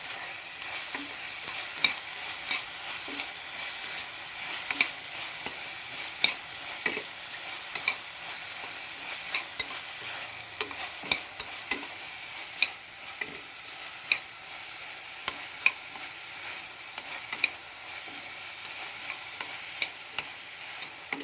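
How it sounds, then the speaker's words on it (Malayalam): Onions sautéing in a pan for prawn biryani give a steady, fairly close sizzle, broken by frequent short scrapes and ticks as a spoon stirs them. There is no talking. "ഉള്ളി നന്നായി ഒന്ന് വഴച്ചെടുക്കും കേട്ടോ."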